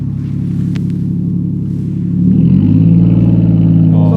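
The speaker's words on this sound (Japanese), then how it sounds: "これでエアコンを入れるとちょっとアイドルアップするじゃん。" Toyota Chaser JZX100 Tourer V with a one-off muffler idling steadily, then the idle steps up and grows louder and rougher about halfway through as the air conditioning kicks in, a close, continuous low rumble.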